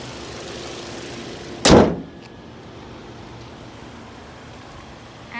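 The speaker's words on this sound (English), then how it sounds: "And as you can hear from the engine as well, there's no loud clunks or bangs happening," A 2016 Toyota RAV4 GXL sits running with a low, steady engine hum, interrupted once by a loud close thump like a door shutting, then the quiet idle continues.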